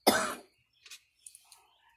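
One sharp, loud cough, followed by a few quieter throaty sounds and breaths, then silence.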